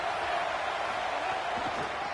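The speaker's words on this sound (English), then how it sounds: "This crowd trying to make life miserable for this offense." Dense, steady roar of a large crowd at a college football stadium during a Florida Gators game, loud and continuous throughout, with no distinct voices rising out of it.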